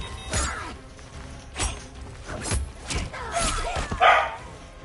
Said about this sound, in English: See, this is why I'm gonna turn my mic on, because they barking.